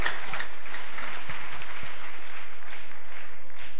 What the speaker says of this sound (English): celebrate Jesus with a wonderful clap offering